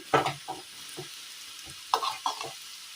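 Rice flour and coconut snack batter frying in oil, with soft bubbling sizzles and a few distinct scraping stirs in irregular bursts, close and without talk.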